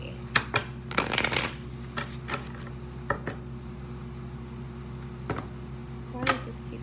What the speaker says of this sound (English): I'm gonna stop shuffling this deck because this deck is obviously ready